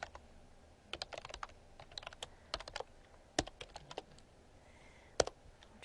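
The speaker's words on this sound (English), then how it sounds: "So you'll excuse me if I just kind of type away on this" Typing on a computer keyboard while writing AJAX code, an irregular run of quick close key clicks in bursts with short pauses, no talking.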